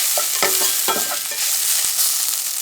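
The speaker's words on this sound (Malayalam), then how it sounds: "എല്ലാം ഇട്ടിട്ട് നന്നായി ഒന്ന് സോട്ട് ചെയ്യുക" Spiced masala filling with turmeric and garam masala sautéing in a hot pan, a loud steady sizzle broken by a few scraping stirs of a spatula, close up with no talking.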